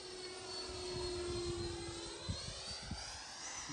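A Freewing MiG-29 RC model jet passes overhead, its ducted-fan whine steady and fairly distant with a tonal hum, plus a couple of faint sharp knocks near the end.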